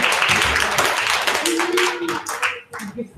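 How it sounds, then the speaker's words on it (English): Brief round of applause for volunteers at a school information night for incoming ninth graders, clapping mixed with a speaking voice over a few seconds in a room. "Let's give them a round of applause."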